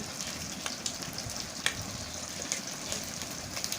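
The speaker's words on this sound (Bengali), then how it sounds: "পরপর আমি ভেজে নিচ্ছি মাছগুলোকে" Papda fish fry in hot oil with a steady, fairly quiet sizzle and scattered small pops and crackles, heard alone without talk.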